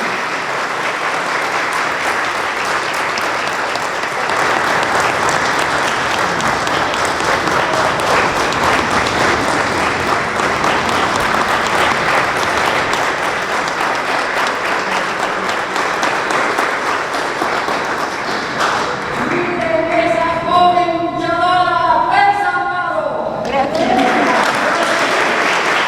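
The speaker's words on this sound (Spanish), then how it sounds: "Por favor, denle un gran aplauso de bienvenida" A book-launch audience gives sustained, loud applause of many hands in welcome, and it keeps going. Near the end a voice speaks over the clapping.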